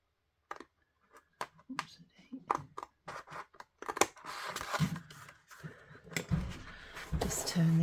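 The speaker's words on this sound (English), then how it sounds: "And then I'll just cut round it with my scissors." Scissors snip through paper in a series of sharp crisp cuts, starting sparse then quickening, with soft handling rustles and faint whispering between.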